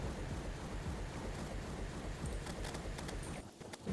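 Acid rain weather event in the video game Terraria with the Calamity mod, a dense steady wash of rainfall noise with low rumbling texture, continuous and moderately loud, no talk.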